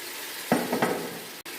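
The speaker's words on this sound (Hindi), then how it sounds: "चिकन को हम मसाले में मिक्स कर लेते हैं और चिकन को भी फ्राई कर लेते हैं 8 से 10 मिनट के लिए" Chicken pieces frying in a yogurt and spice masala for dahi chicken kadai, giving a brief close burst of sizzling and stirring in the pan, with no talk.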